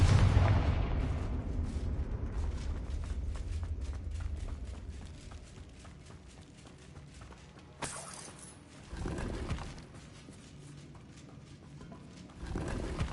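Confringo fire spell in Hogwarts Legacy bursting with deep rumbling explosions, a heavy blast at the start, then fainter crackles and two more booming impacts later, with no speech over them.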